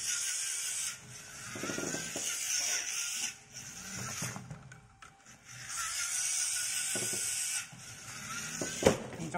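Gear-driven drag race toy robot running, a steady mechanical whirring and ratcheting buzz with a brief lull in the middle before it picks up again, close and fairly loud with no talk.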